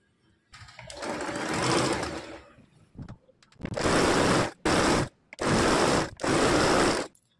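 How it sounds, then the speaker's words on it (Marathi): Sewing machine stitching the bottom hem of blouse sleeves, loud close whirring runs in several bursts of about a second each separated by short pauses, no talk. "आता खाली बॉटमला आपल्याला एक एक स्टिच टाकून घ्यायची आहे"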